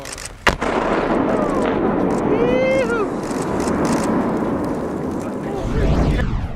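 Explosive charges set off by army engineers in a mountain setting: one sharp bang, then a long, loud rolling roar as the blast echoes off the surrounding mountains.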